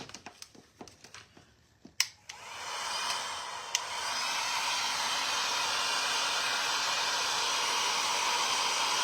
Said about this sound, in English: Then we'll come in with my heat gun and see how much chipping we get